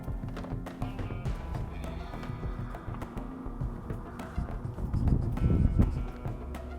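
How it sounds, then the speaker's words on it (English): A woodpecker taps on wood outdoors, making a string of sharp, irregular knocks over a steady background rustle that grows into a low rumble near the end. "Could you hear the woodpecker, chat?"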